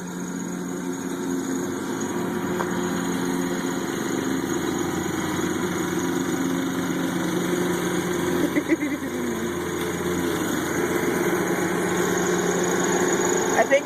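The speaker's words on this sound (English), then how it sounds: "She begged my dad if she could mow the lawn." Riding lawnmower engine running steadily while a woman mows the lawn, a continuous mid-pitched hum with a few brief knocks near the end, heard at moderate distance throughout.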